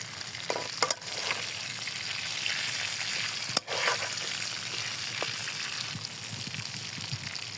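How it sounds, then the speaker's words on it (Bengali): Rohu fish heads fry in hot oil after being turned over. A loud, continuous close sizzle runs throughout, broken by a couple of brief knocks from the pan or utensil. "মাছ এক পাশ ভাজা হয়ে গেছে এখন উল্টিয়ে দেই"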